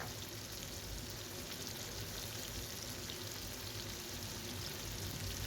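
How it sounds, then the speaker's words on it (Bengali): Paneer pieces frying in hot oil, a dense, even sizzle and crackle that stays faint and constant from start to finish, with no voices. "দেখো সমস্ত পনিরগুলো আমি ধীরে ধীরে দিয়ে দিচ্ছি তেলের মধ্যে"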